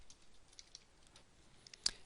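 Quiet, irregular keystroke clicks from code being typed on a computer keyboard, faint and sparse, with one sharper tap near the end.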